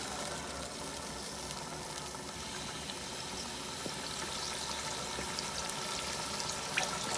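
Four cups of yakhni stock pour into fried spices, giving a continuous faint rushing, sizzling hiss that holds steady throughout with no talk.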